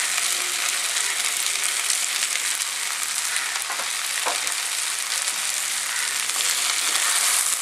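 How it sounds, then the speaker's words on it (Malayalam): Kerala-style beef roast fries in a pan with fried coconut pieces, a dense continuous close sizzle with occasional scraping stir strokes, steady and loud throughout with no talking. "അങ്ങനെ നന്നായിട്ട് ഇളക്കി കൊടുക്കാം. ഇനി നമ്മൾ ആദ്യമേ വറുത്ത് വെച്ചിരുന്ന ആ തേങ്ങാക്കൊത്തും കൂടി ഇതിൻ്റെ അകത്തേക്ക് ചേർക്കാം."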